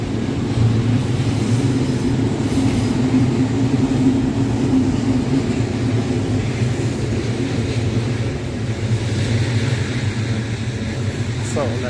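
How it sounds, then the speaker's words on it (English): A train rumbles steadily past on a Tokyo line near Shinjuku, a loud continuous roar of wheels and carriages that holds without break from start to finish. "They're waving at the train."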